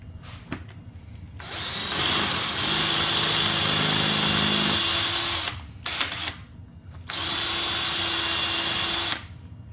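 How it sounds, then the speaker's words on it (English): A power drill with a concrete Tapcon bit whines loudly in two long bursts with a short pause between, grinding steadily as it bores into concrete; no talking. "So I had to go out and get a concrete Tapcon drill bit, and we're going to see how that works."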